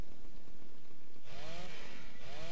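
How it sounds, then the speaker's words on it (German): A chainsaw in the video game ARK: Scorched Earth runs with a continuous buzzing drone, then revs higher and harsher with wavering pitch partway through; fairly loud and steady, no talk. "Okay, die ist auf jeden Fall ziemlich leise. Ich hätte sie jetzt lauter erwartet für eine Kettensäge."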